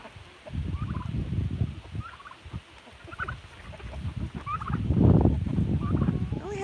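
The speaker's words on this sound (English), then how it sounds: "I only have 2 of my turkeys." Turkeys on a farm gobble repeatedly at close to middle distance, with bursts of warbling gobbles over low rumbling background noise.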